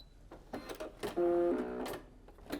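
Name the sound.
Brother M370/M380D sewing machine stitching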